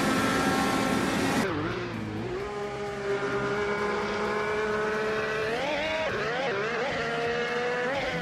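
Honda IndyCar race cars screaming past during a race, high-pitched engine whine with shifting pitch as one car drops and then climbs through the revs, steady and loud with a Doppler sweep near the start, no talking.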